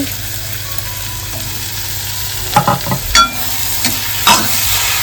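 Masoor dal tossed into hot oil with homemade masala and turmeric, a steady sizzle of frying with several sharp scraping stirs of a spoon against the pan, no talking.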